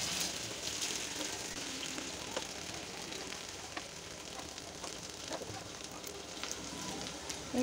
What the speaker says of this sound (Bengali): এই তো উল্টে পাল্টে সবগুলো আমি ভেজে দেব।